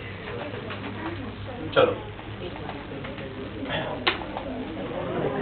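Pigeons cooing softly and fluttering as they are shooed off, with a couple of sharp wing flaps, while a person talks nearby.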